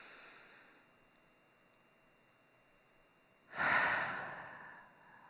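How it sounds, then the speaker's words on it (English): During a yoga session, a long, quiet pause gives way to one deep, breathy exhale, close and fairly soft, that fades out gradually. "One more breath here."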